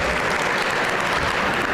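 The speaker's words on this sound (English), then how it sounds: "So let's hear some great applause to the kids behind us." An audience gives sustained, dense applause for children performers, a steady wash of clapping with no pause across the short moment.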